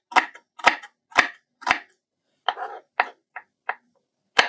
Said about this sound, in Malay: kita seterusnya kita nak potong-potong bawang-bawang ni